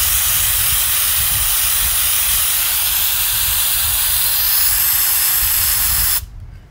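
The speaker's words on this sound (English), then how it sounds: "I'm going to spray it directly on here." Moisture Guard rust inhibitor sprayed from an aerosol can directly onto a metal surface: a loud, steady, close hiss that runs unbroken for about six seconds, then cuts off abruptly.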